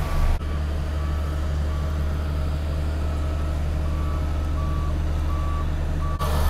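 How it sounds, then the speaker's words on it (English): A road grader working on a kart racing track extension reverses with a steady, evenly spaced backup beeper over a constant heavy diesel rumble, loud and close throughout. "Grader comes in now, has a bit of a grade up."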